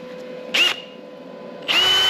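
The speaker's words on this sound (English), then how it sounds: "We're gonna drill it with a step drill." A step drill bit bores a drain plug hole in a Ford 9 inch rear axle housing. Two short, whining bursts of the power drill come up close, separated by a pause in which a low hum continues.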